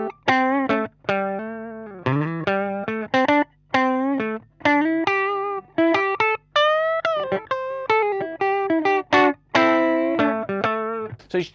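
An electric guitar on its bridge and middle pickups plays a run of single notes and short phrases through a small Fender Champ 5F1 clone tube amp, with a slightly overdriven, breaking-up tone, close and clear.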